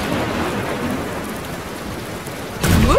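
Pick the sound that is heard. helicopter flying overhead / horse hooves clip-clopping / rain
rain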